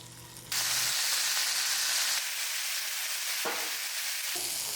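Chicken pieces for BBQ chicken fry in boiling butter, a loud, steady, close sizzle that bursts in after a brief quieter moment and then crackles on evenly.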